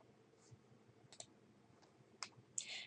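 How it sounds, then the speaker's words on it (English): A few faint, sharp computer mouse clicks come in a quiet room, spaced unevenly, with a brief soft rustle at the end. "I'll go ahead and click."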